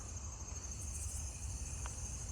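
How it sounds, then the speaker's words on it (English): A broadwing tree cricket trills in a continuous, steady stream, faint and distant against quiet night background. "The reason I know it's a broadwing is because it's lower pitched than the pine tree crickets I was hearing"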